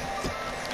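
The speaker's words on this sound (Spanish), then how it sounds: "la alarma de mi abuela." A grandmother's medication alarm beeps briefly in a home, a short electronic tone sounding through a steady noisy background, with no talking.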